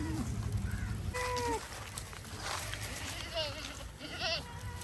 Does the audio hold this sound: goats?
yes